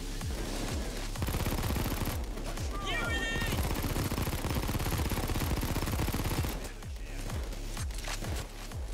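Dense automatic gunfire from PayDay 2 rattles in rapid bursts for most of the stretch, loud and close, with brief game effects layered in before the shooting thins out near the end.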